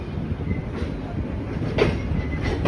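The Shimanto Express rolls out of Jessore railway junction, its carriages rumbling steadily with rhythmic wheel clatter and a sharper clank near the end, heard from on board.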